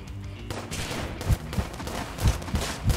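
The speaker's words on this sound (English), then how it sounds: "I have to shoot it." Rapid gunfire rattles through the video game Trash Squad, a dense fusillade of shots with several heavier bursts, loud and continuous over a noisy game soundtrack.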